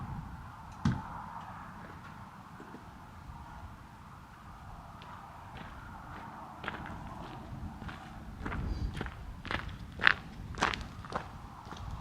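Footsteps crunch along a wet, rainy trail toward a lake during a solo camping hike, quiet and irregular at first, then firmer and closer with sharper crunches near the end, without talking.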